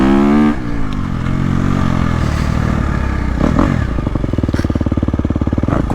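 A 2022.5 KTM 250SXF Factory Edition dirt bike ridden over choppy ground, loud close engine note with rattling and clatter as the throttle rises and pulses, continuous throughout.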